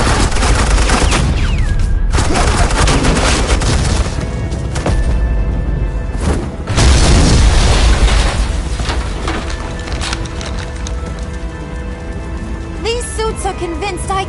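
Heavy gunfire in a Batman game scene, with rapid bursts and booming shots over a dense, loud mix of mechanical noise and effects, the volume staying high and continuous.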